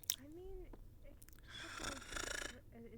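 A character snores in a VRChat roleplay game, a steady rasping breath that rises into a loud noisy snore in the middle, with other faint sounds around it.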